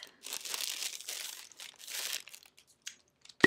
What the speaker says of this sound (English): So we're just gonna unwrap.